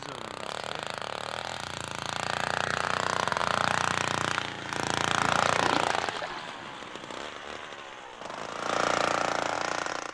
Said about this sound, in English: Watched by Jean-Michel and Falco, government biologists drill through the ice